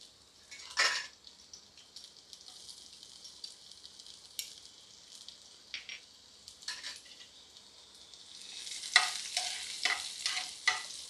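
Garlic sizzles in a little oil in a pan as it is stirred for an okra dish, a soft continuous frying hiss broken by scraping clinks of a utensil, growing busier toward the end.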